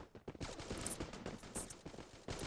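Rapid gunfire in a video game, with dense overlapping bursts of shots crackling back to back, loud and close, with only a brief gap before the firing resumes.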